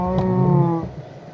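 A single low, drawn-out Minecraft cow moo sounds close and fairly loud, then cuts off into quiet background hiss.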